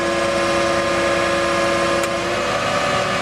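A generator engine on a Dodge service truck, 7K unit paired with a 300 amp welder and screw compressor, idles steadily while warming up, giving a constant mid-pitched drone with a strong hum and no talk.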